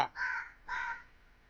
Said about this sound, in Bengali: হ্যাঁ হ্যাঁ ও কাক ডাকছে কাক কাক কাক